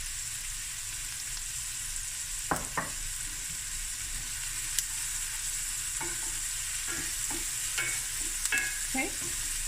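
Onions fry in a pan with a steady, close sizzle, broken now and then by short scraping stirs of the utensil against the pan.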